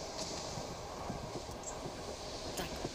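A passenger train on the Moscow–Gomel route rumbles steadily at night, with a continuous low roll of wheels and carriage noise and faint rattles throughout, no voices.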